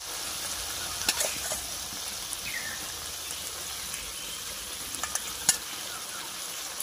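Eggplant being stirred into loitta fish frying in oil in a pan, a steady soft sizzle with scattered spoon or spatula clicks against the pan, close and continuous.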